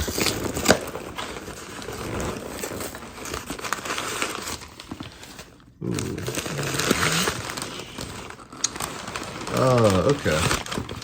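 A shipping box is torn open by hand, with crinkling and ripping noises of paper and cardboard mixed with a person talking over them, close and moderately loud.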